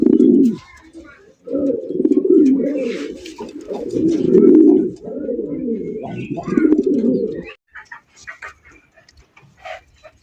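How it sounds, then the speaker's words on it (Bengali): A male black racer pigeon cooing loudly and close, in long repeated rolling coos for several seconds before falling quiet, followed by scattered faint clicks and rustling. "ডাক দেখছেন ভাই, পাগলা একটা নর, ঘুম ঘুম করে ডাকতেছে দেখেন।"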